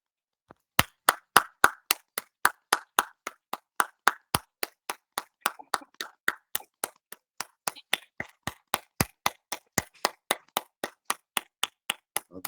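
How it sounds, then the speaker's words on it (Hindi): Rhythmic clapping from participants at a daily yoga program, a long even series of sharp, evenly spaced claps, crisp and moderately close, with no talk over them. "चलिए, ताली वादन।"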